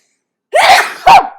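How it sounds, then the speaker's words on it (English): A single close, sharp sneeze, a breathy burst followed quickly by a second explosive release, loud against silence. "That's not my worst sneeze either."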